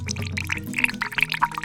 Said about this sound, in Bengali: এবার আমি একটা স্ট্রেনারের সাহায্যে জুসটাকে ছেঁকে ড্রাই ফ্রুটটাকে আলাদা করে নিই।